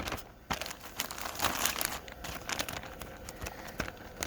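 A Ziploc plastic bag crinkles and crackles as homemade tortilla dough is handled inside it, with irregular close bursts of rustling throughout and no talking.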